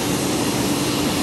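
An airplane at Charlotte airport just after landing gives off a steady, loud, broad engine roar that holds constant throughout, nearby and unbroken, with no voices over it.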